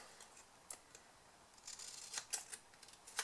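Scissors trimming a piece of craft material to length for a Malteser truffle box, a few faint, close, crisp snips scattered irregularly across a quiet background, without talking.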